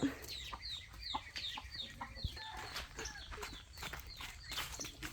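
Chickens cluck repeatedly at close range at a rice-field hut where cattle are kept, short clucks overlapping in an uneven rhythm, with faint rustling footsteps underneath.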